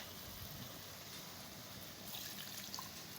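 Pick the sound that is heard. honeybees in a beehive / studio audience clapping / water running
water running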